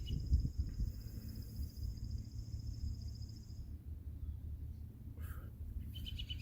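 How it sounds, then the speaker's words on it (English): Faint bird chirps sound in the distance in early spring, with a thin high twittering early on and a few short calls near the end, over low outdoor rumble. "the wind is blowing and the birds are chirping"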